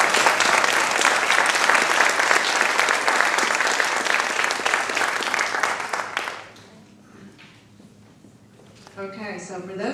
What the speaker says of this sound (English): I'd like to have everybody give a round of applause to Celine and her team.